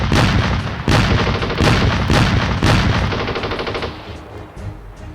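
Bursts of machine gun fire with mortar-like booms in a wartime battle scene, several loud rapid volleys repeating roughly every second before fading into a steadier rattle.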